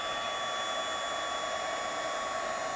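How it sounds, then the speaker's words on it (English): A Marvy heat tool blows hot air to emboss a stamped image on a holiday card, giving a steady, loud, close whoosh like a small hair dryer that runs unbroken throughout. "I have my Marvy heat tool,"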